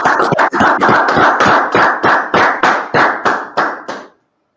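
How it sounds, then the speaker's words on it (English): Rhythmic clapping at a brotherhood class gathering, a dozen or so loud, close claps in a steady beat that quickly fade out, with no speech. "Y'all clap it up."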